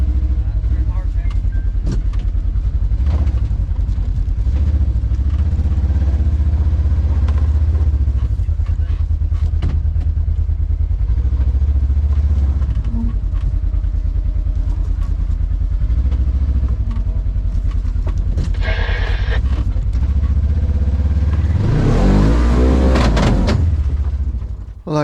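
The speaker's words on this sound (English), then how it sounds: "I can see now that it can certainly take full throttle, especially, just on this little 900, but ratcheting is getting worse rapidly" A Polaris RZR 900 side-by-side on portals and 35-inch tires runs hard through a wet trail, its engine roaring steadily with clattering drivetrain and mechanical rattles, loud and close, with a splashing surge near the end.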